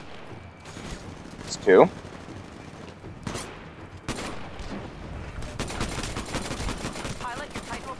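Gunfire from a gun in the video game Titanfall: scattered shots and a dense automatic burst toward the end, fairly faint and low in the mix, with a voice talking briefly over it.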